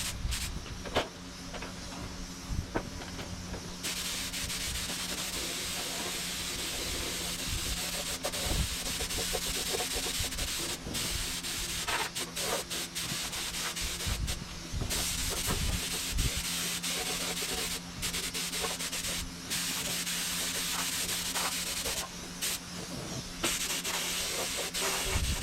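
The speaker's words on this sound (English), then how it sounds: "I've got to turn the fan on. Also, it's blowing out, but it's fine." Fan blowing steadily in a workshop where a car frame is being worked on, a constant, fairly quiet airy rush with a low hum beneath and occasional faint knocks, with no talking.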